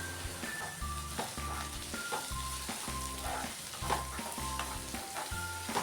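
Onions and tomatoes sautéing in a pan for green gram gravy, a gentle sizzle under rhythmic, regularly repeated scraping strokes of a ladle stirring, fairly quiet and close, no talking.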